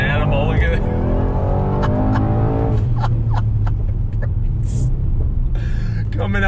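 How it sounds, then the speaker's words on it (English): A 2020 Mercedes-AMG GT 63 S sedan's engine drones loud and close, with rising revs and sharp crackling gear shifts, beneath someone talking steadily throughout. "The sound, I'm telling you, the shifts are so purposeful and they hit with such ferocity."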